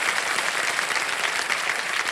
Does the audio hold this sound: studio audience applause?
yes